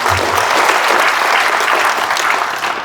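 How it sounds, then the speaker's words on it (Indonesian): Audience applause at a nursing diploma graduation ceremony at STIKES Pemkab Purworejo, a dense, steady wash of many hands clapping throughout, loud and even with no break. "Aplaus buat kita semua."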